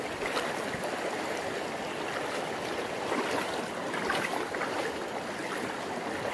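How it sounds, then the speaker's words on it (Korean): A fast mountain stream swollen with high water rushes through a remote valley, making a dense, steady, close roar of churning water with no pause. "물 수위가 옛날보다 한발 전보다 많이 불어서 물살이 엄청 셉니다"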